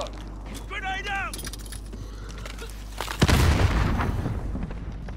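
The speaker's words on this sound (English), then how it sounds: "Grenade out." Grenade explosion in Call of Duty: Warzone: a heavy, rumbling boom erupts midway, loud and close, after a stretch of quieter game ambience with a voice talking over it.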